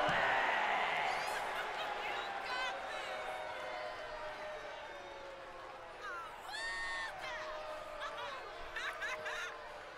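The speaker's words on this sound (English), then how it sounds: "I love how the crowd chats like that" Crowd in the WWE 2K24 wrestling game fills an arena with steady chatter, scattered whoops, cheers and chuckles, a dense wash of many voices that keeps up throughout.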